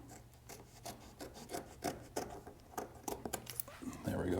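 Trimming excess off a GT350 vinyl sticker produces a run of short, close scratchy rasps and cuts in uneven rhythm, some sharper than others, ending in a louder rubbing burst.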